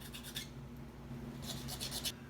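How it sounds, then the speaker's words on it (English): Short bursts of close rasping as a plastic part for a scratch-built scale model is sanded by hand, two rhythmic strokes at the start and a longer run near the end. "All right, so I have it sanded out to where I want it to be."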